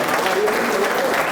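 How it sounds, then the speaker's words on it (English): Audience applause at a university leadership workshop, a loud, continuous roar of clapping with crowd voices mixed in, heard up close. "A round of applause for them."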